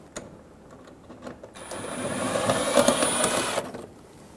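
A power tool whirs for about two seconds, backing out a 7mm screw from the underside of a 2000-2007 Ford Focus front bumper, with a few faint clicks before and after.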